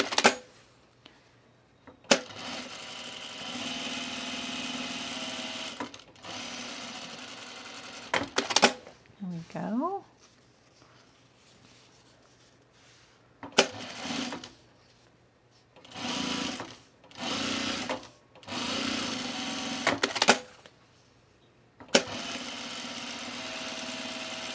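A sewing machine edge stitches a fabric divided basket in several separate runs of steady, close whirring. Short pauses and handling noises fall between the bursts.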